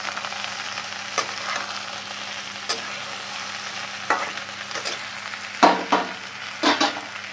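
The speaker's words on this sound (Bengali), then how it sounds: "দেখুন বেগুনটা একটু ভাজা ভাজা হয়ে গেছে" Sliced eggplant frying in oil in a pan for a vegetarian Bengali dish, a quiet low sizzle broken by several sharp scraping stirs and clatters of a spatula that grow busier toward the end.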